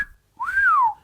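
A single clear whistled note that sweeps up then glides down, loud and close, lasting under a second after a brief fainter tone.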